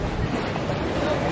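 A gondola glides on the water in Venice, a steady wash of lapping water and wind noise, with voices faintly present.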